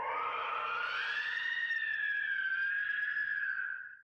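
Banshee noisemaker from Team Fortress 2, a single long wailing scream that slowly rises and then holds steady, loud and close, cutting off abruptly at the end with no talking.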